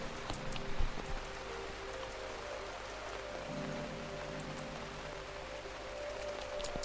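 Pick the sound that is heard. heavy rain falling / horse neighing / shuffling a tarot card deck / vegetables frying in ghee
heavy rain falling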